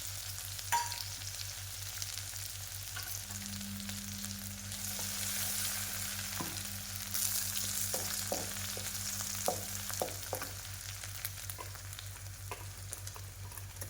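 Garlic-ginger paste and a bay leaf hiss and sizzle in hot oil, with a steady frying crackle, occasional spoon stirs and clinks against the pan, and a faint hum underneath.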